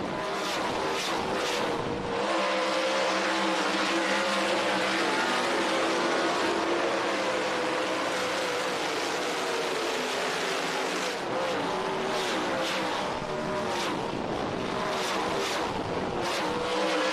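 Race cars tear around Ohsweken Speedway on a Friday night, their engines holding a loud, continuous roar with rising and falling pitch as the cars pass close by.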